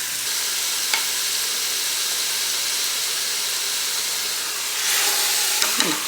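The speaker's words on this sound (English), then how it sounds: "sear it on both sides for about a minute or so, just to brown the outside" Pork tenderloin sears in a hot pan with a steady, close sizzle and hiss running throughout, with a few faint clicks and a brief louder burst of frying near the end.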